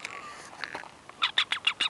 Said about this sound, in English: I got a bird about to attack me